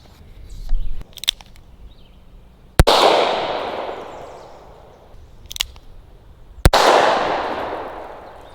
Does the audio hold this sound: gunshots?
yes